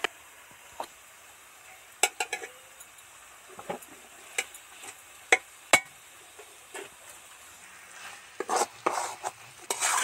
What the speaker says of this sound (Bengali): এবার নেড়ে চেড়ে একবার শুধু নেড়ে চেড়ে মিশিয়ে দিলাম